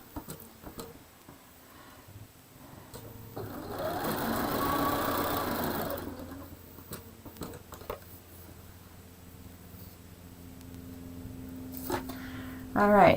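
A home sewing machine runs a quilt block seam without pins, a smooth whirring burst in the middle that swells and fades, with quieter handling clicks and small taps around it and a sharper clatter at the end.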